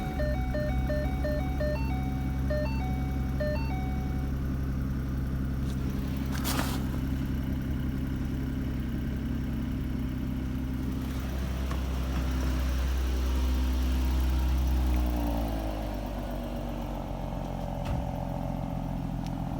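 A Ford Mustang engine idles steadily after starting, a low rumble with a brief clatter partway and a short rev near the end.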